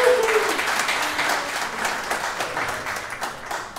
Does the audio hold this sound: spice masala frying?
no